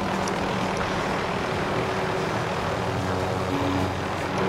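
Rotor and engine drone of a helicopter in the game Call of Duty: Modern Warfare, a loud, continuous low throb with a steady hum that persists throughout, with no talking.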